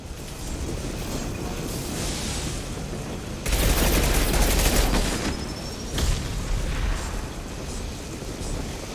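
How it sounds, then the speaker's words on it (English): Machine pistol gunfire in the video game Mass Effect 2 on hardcore difficulty, with loud rattling bursts up close, the heaviest running for about a second and a half and a shorter one following, over a constant background of in-game noise. "Alright, so machine pistol time."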